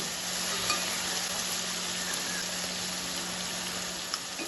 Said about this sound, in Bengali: মশলাটাও ভালোভাবে তেলের সাথে কষিয়ে নেব যতক্ষণ না পর্যন্ত তেল সেপারেট হয়